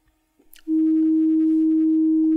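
A steady pure test tone plays from a test record on a turntable during cartridge and anti-skating setup, starting abruptly after some faint stylus noise and holding loud and constant with faint added harmonics suggesting slight distortion.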